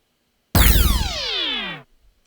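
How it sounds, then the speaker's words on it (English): A flying buzzer enemy's zap attack in a video game, a loud sci-fi blaster burst that starts abruptly and sweeps downward in pitch for over a second before cutting off in silence. "the other sound it makes is when it zaps you with its attack"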